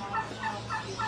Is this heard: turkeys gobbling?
yes